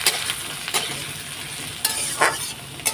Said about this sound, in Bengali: তা ততক্ষণে তেলটা গরম হোক, আর এটা একটু ভাজা ভাজা হোক